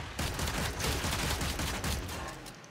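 Enemies in Warframe shoot in a thick, unbroken barrage of rapid gunfire, loud and near, with closely packed shots running throughout and no talk over it.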